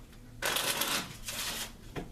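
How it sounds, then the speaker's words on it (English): A deck of Hessler's Enhanced Playing Cards is shuffled on a table: two loud, rustling riffle bursts with a brief pause between them, followed by a soft tap as the cards settle. "I'm going to shuffle the cards."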